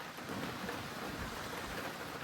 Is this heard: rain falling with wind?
yes